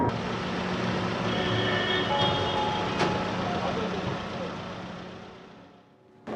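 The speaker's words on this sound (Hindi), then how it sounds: "ओहो संतोष, संभाल के चला यार" A vehicle jolts along a bumpy, potholed road with a loud, steady engine and road rumble that holds throughout and then dips briefly near the end.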